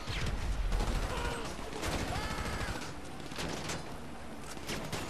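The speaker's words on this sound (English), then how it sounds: "I'm getting shot at." Rapid crackling gunfire in GTA V Online during a prison break heist with a plane, a faint but continuous fusillade of shots running throughout.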